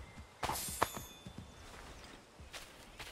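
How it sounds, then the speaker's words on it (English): A horse's hooves clip-clop in Assassin's Creed 3, with a run of close, uneven hoofbeats that are fairly quiet. A few sharper knocks stand out among them. "Hey, horse is down here now."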